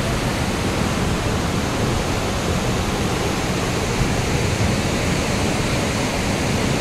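Bheemkund waterfall in Keonjhar roars with loud, dense rushing water, a constant broadband hiss with no breaks, close and filling everything.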